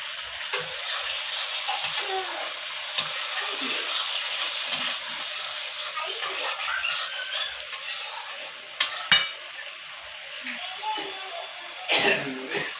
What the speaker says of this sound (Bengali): এবার মশলা থেকে তেল ছেড়ে আসছে তাই আমি এবার অ্যাড করে দিলাম সামান্য পরিমাণ সর্ষে বাটা